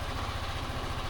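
A motorcycle engine, just started, idles steadily with a low, even throb and close mechanical rumble, running alone without voices.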